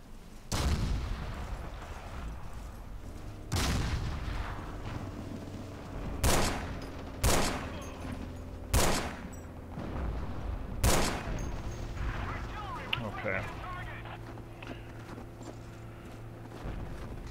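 Gunfire in the Forgotten Hope 2 World War II shooter on the Meuse River map, several sharp, loud shots and bursts spaced several seconds apart, with distant crackling fire between them.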